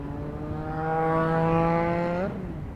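Yamaha MT-09 motorcycle passing by on the road, its engine a rising, steady drone with strong harmonics that swells loud up close for about two seconds, then drops in pitch and cuts away as it goes past.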